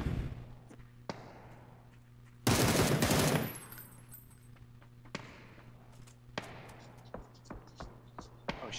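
Gunfire in the PUBG battle royale game: a dense loud burst of rapid shots lasting about a second, followed by scattered single sharp cracks over a steady low hum.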